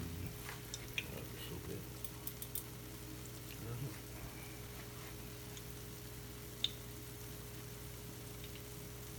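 Egg foo young frying in a pan makes a quiet, steady sizzle with scattered small ticks and pops and a low hum underneath, while a person speaks softly at times.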